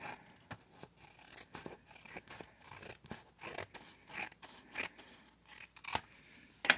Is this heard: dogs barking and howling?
no